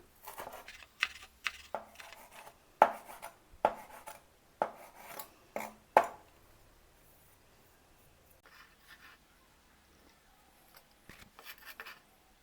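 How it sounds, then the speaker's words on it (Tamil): Spring onion is chopped into small pieces with a knife on a board, giving a run of about a dozen crisp, close thuds at an uneven pace, then a quiet pause and a few softer cuts at the end. "ஸ்ப்ரிங் ஆனியன் சின்ன சின்ன கட் பண்ணுறேன்."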